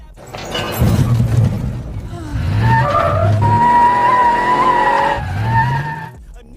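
Car chase in a film, with loud tires skidding and squealing over engine noise and a dramatic rumble for several seconds.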